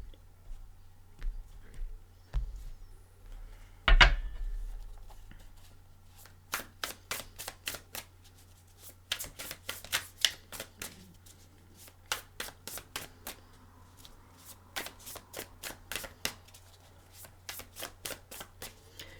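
A deck of tarot cards is shuffled and cut close up, giving a loud thump followed by rapid riffling bursts and crisp flicks repeating in an irregular rhythm, with no talking.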